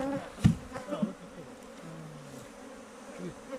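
Honey bees buzz at a hive during beekeeping work: a soft, continuous hum of many insects with a few louder passes close by, mostly alone with faint handling noises.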